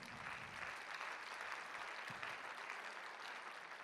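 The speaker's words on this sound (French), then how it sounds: "On peut l'applaudir peut-être quand même cette campagne, non?" Audience applause at a plastics and composites industry forum, a faint, steady wash of distant clapping that holds evenly for a few seconds.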